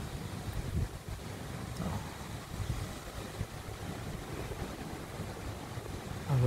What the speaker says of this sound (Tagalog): ang lakas ng hangin talaga